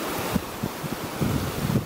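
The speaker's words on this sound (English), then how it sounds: "Oh, and the wind." Wind buffeting the microphone near a fast river on a Santa Barbara hiking trail, a loud, steady rushing roar with irregular low thumping gusts.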